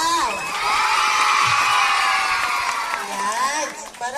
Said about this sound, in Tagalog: isang malakas at napalakpakan at sigawan para sa ating mga